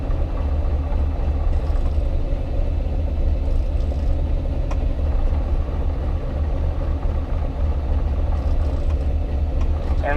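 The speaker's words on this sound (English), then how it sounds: "when I have the clutch out, I'm hearing a dunk dunk dunk dunk dunk" A car idles with the clutch out, a steady low rumbling drone with a faint repetitive dunk-dunk knock running underneath, moderately loud and continuous throughout.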